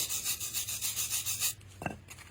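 Rust and grime being scrubbed off the brake caliper bracket mounting surfaces, a steady rhythmic rasping of about a dozen quick strokes for a second and a half, then a brief pause and a single short scrape.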